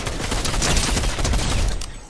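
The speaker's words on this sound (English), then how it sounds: "Whoa, someone's shooting." Dense, rapid gunfire from the Fortnite battle royale game rattles on without pause for about two seconds, loud and close. It fades slightly at the end, with no talking over it.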